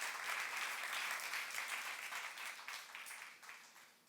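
A church congregation applauds in a dense, steady wash of clapping that carries on for several seconds, then thins and fades toward the end, heard at a moderate distance.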